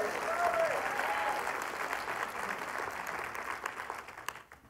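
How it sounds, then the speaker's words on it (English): A church congregation claps in praise during a sermon, a dense, sustained round of applause with scattered voices that gradually thins and fades out. "give God a hand clap of praise."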